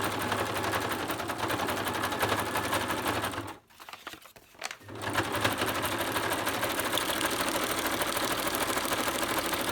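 A sewing machine runs a zigzag stitch through paper in a rapid, steady mechanical chatter, close and loud, pausing for about a second midway before resuming.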